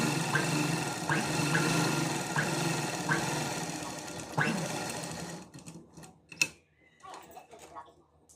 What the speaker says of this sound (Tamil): இந்த தையல் மேலேயும் ஒரு தையல் போட்டு தைச்சிக்கலாம்